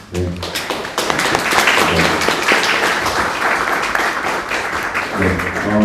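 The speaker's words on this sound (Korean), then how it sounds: "아키톤 저희 1, 2, 3등팀 격려의 박수 한번 주시면" Audience applause at a tech meetup to encourage the first, second and third place teams, a dense wash of clapping that swells and holds, with a little talk at its start and end.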